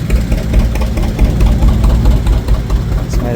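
An antique tractor idles nearby at an outdoor tractor show, with a loud, steady low rumble and a faint knocking pulse.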